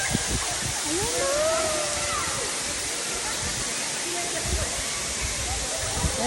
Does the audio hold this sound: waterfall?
yes